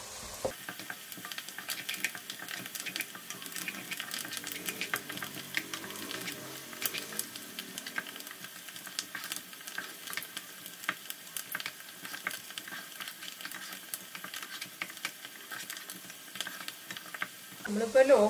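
Ginger, green chilli, curry leaves and garlic sauté in oil on a low flame for a raw mango pickle, giving a soft, continuous crackling sizzle with occasional stirring scrapes, faint and steady throughout.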